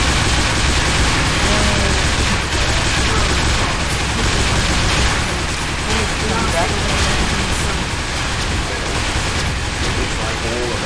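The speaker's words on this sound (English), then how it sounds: "I can shoot him." Dense, continuous gunfire from the first-person shooter Consortium rattles loudly without pause, with booms and bursts layered into a thick, unbroken din.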